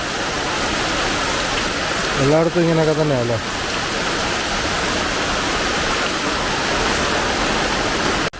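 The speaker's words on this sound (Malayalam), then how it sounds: "ഇന്ന് ഫുള്ള് മഴയാണ്" Heavy rain pouring down in a steady, loud, dense hiss that fills the whole stretch, with a voice speaking briefly over it near the start.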